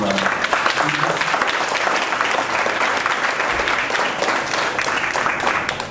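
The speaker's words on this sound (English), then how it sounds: "let's give a big round of applause" An audience at a gathering gives a big round of applause, a loud, dense wash of clapping that holds steady throughout and tails off slightly at the very end.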